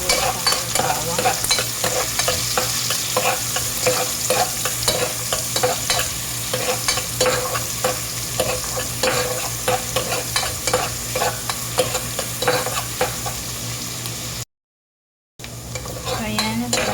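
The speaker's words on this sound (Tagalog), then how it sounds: "haluin po natin yung sibuyas sa bawang" Steady loud sizzling of onions and garlic frying in a pan, with repeated scraping strokes of a utensil stirring throughout and a brief silent gap near the end.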